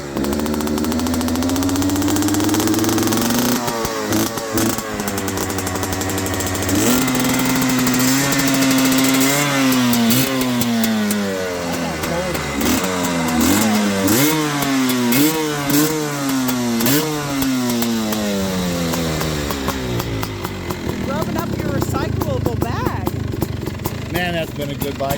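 A dirt bike engine revs repeatedly, its pitch climbing and falling in buzzy, rising sweeps, loud and close, with someone talking over parts of it.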